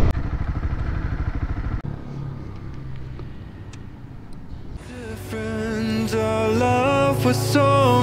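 A Honda CB300R motorcycle engine while riding gives a loud, close buzzing throb that eases to a lower hum and then gives way to music at the end.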